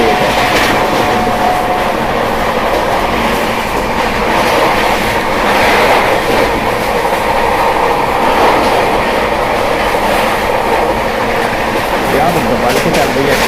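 Jharkhand Sampark Kranti express train running at speed, a loud, continuous rumbling roar with rhythmic clickety-clack of wheels over rail joints and faint squeal, heard from inside throughout, with a voice faintly present.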